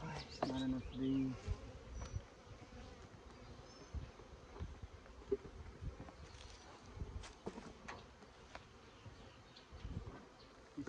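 Swarming honeybees around a disturbed hive frame outdoors: intermittent buzzing passes near and far over light wind noise, with a few louder close fly-bys early on, faint throughout.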